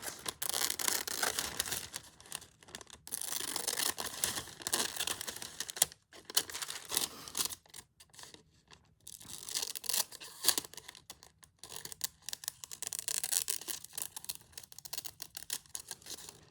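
Scissors cutting a fabric jacket piece for slow stitching, a close, quiet series of irregular snips and rustles with brief pauses throughout.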